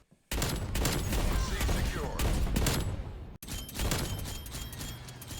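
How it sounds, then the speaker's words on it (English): Rapid overlapping gunfire from the M82 sniper rifle in Black Ops Cold War on the Cartel map, a dense loud barrage of shots and mechanical clatter with one brief gap near the end. "To round out the snipers, we've got the M82 and the spawn trap on Cartel."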